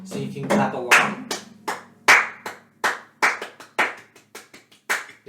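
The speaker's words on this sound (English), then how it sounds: "So you can clap along." Hands clap along to a steady beat in a Spanish-language children's song lesson, a string of sharp, close claps in a regular rhythm, some quick doubles, with a faint voice in the background.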